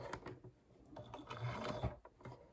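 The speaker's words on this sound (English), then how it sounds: "can you just do a few stitches of backwards and forwards, and you'll be good to go" A sewing machine stitches back and forth in bursts of rapid mechanical clatter and whirring while dinette fabric is sewn for a 1984 Chris-Craft Catalina 381 boat. The sound is close and fairly quiet, with uneven pauses.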